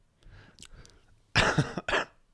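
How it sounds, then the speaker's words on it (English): A few harsh, loud coughs up close, preceded by quieter throat noises and breathing. "Stop making me cough."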